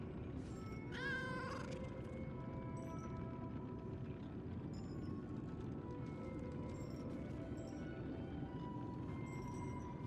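A house cat meows once, loud and close, with a quick rising call, followed by softer game sounds and a steady low hum from a video game playing in the room.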